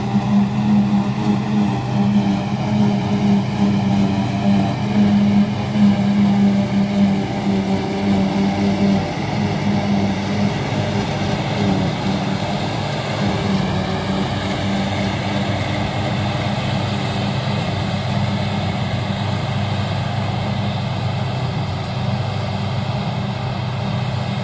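A brand-new Claas Jaguar 880 forage harvester on its first day out at silage work in Tralee, its engine running as a steady, loud, continuous drone with a deep hum, heard alone throughout.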